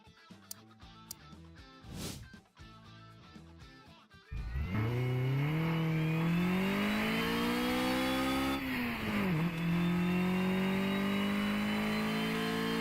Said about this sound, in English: let's run the dyno again